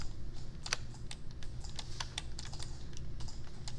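Computer keyboard and mouse clicks during 3D hand modelling in Maya, a quick irregular run of light, close taps with no talking.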